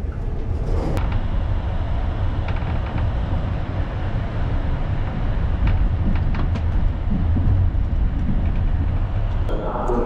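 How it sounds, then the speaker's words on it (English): A passenger train runs on rails on a European railway into Slovakia, heard from inside the carriage as a steady, loud low rumble that lasts throughout, with a few faint clicks. "we're on our first European railway to a new country"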